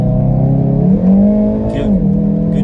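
Hyundai i30 N hatchback accelerating hard in N mode, a loud, steady engine note rising then dipping briefly as it shifts, heard from inside the cabin with no talk over it.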